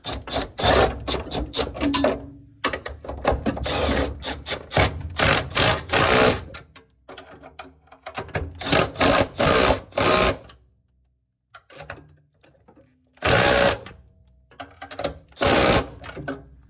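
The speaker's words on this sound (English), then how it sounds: "let me grab my trusty impact and zip these in place" Cordless impact driver running clutch pedal fasteners into place, loud repeated bursts of rapid hammering, some long and some short, separated by brief quiet gaps.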